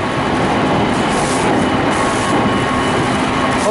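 A commuter train in suburban Aichi near Nagoya, approaching a transfer to the Mikawa Line, gives a continuous loud rumble with a wheel-and-track roar that stays steady throughout.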